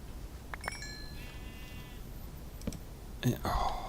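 Sheep in the Minecraft video game give a few short, faint bleats, mixed with scattered clicking and quiet game sounds.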